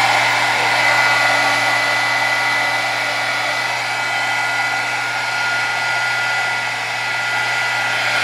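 A hair dryer blows steadily on a painted canvas, a loud continuous whirring hiss with a constant motor hum underneath, unbroken throughout.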